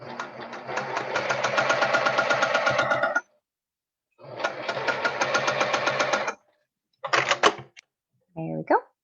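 A sewing machine runs in steady mechanical bursts, a long stretch, a pause, another long run, then short stuttering stitches near the end.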